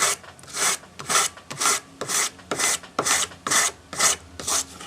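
A sanding stick rasps back and forth over a small metal dragonfly piece held in a ring clamp against a bench peg, about ten steady close strokes in even rhythm with no talking.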